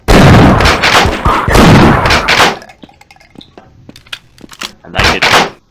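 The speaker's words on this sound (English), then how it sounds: "Shotgun." Shotgun blasts in Half-Life: Source, two loud broadband booms in the first half followed by sparse clicks and a final burst, with no talk.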